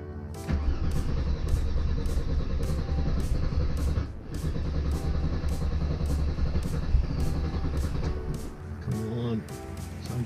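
A Mercedes C32 engine running on a stand-alone ECU idles with a loud, close, rumbling clatter. It dips briefly partway through, then settles into an uneven idle with rhythmic ticking.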